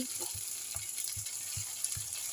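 Onions frying in a pan for chicken biryani give a quiet, steady sizzle, with a soft rhythmic rattle repeating underneath throughout.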